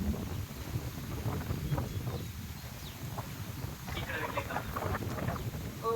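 Strong gusty wind outdoors roars and rumbles steadily against the microphone while a DJI Mavic 3 drone is flown, with voices talking throughout.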